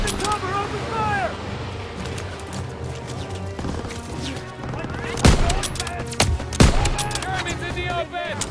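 Gunfire in Call of Duty: WWII on veteran difficulty in a factory battle, with rapid machine-gun bursts and sharp rifle shots, a few loud close cracks standing out amid battle noise and shouted voices.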